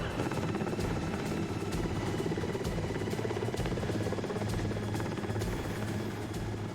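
A helicopter flies overhead, a steady loud rotor thump and turbine drone that runs throughout without break.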